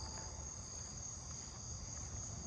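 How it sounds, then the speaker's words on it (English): A southeastern field cricket chirps steadily outdoors, its high, thin song holding a constant pitch beneath low ambient rumble, with no voices present. "There was a southeastern field cricket, and there's another one over there."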